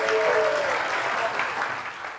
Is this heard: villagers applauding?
yes